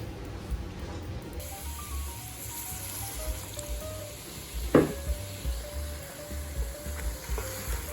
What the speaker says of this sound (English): We're gonna hit it with a little bit of beer